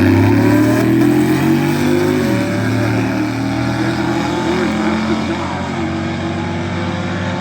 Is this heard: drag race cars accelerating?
yes